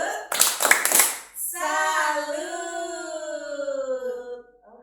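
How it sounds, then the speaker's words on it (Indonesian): Children at a parish Sunday school class doing a rhythmic clapping salute, a quick burst of several claps near the start followed by a sustained sung or called-out voice. "Kita tepuk salut dulu"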